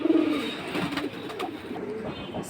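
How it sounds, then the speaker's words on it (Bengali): Flying pigeons cooing nearby at a market, low soft repeated coos over a busy background murmur. "আর এগুলো হচ্ছে মূলত ফ্লাইয়ের জন্য কবুতর।"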